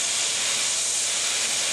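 Steady, loud hiss of steam forced through a vape atomizer during cleaning, a continuous broadband rush with no breaks and no talking.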